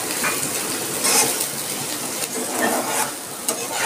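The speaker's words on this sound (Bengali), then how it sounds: "আমি কড়াইতে তেল দিয়ে দিয়েছি, তেল গরম হয়ে গেছে, আমি দিয়ে দিচ্ছি। দেখুন পেঁয়াজটা আমি খুব ছোটো ছোটো করে কেটে রেখেছি।" Finely chopped onions frying in hot oil in a wok while being stirred, a steady loud sizzle with scraping spatula strokes throughout, no voices.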